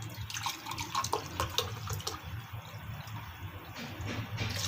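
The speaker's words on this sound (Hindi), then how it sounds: "ये हम पानी डालेंगे" Water splashes and pours from a glass into a pressure cooker in an uneven stream, close by, with some clinking in the background.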